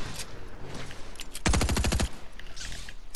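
Submachine gun fire in Fortnite, a sharp rapid burst of automatic shots lasting about half a second amid scattered game noise, loud and close.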